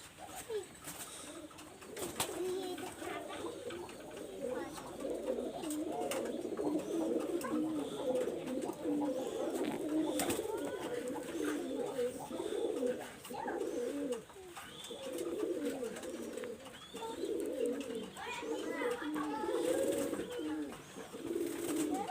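A pair of pigeons, one male and one female, coo steadily and continuously at close range, with soft overlapping calls layered over a low background hum.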